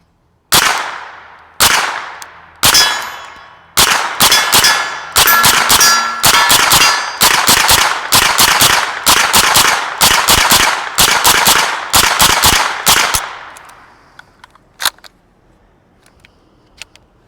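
About a dozen sharp shots from a rifle fitted with an MKE AP5-SD baffle-type suppressor, firing standard NATO ball ammunition, first spaced then in a quick steady string, loud and close, each with a short ringing tail, ending in silence.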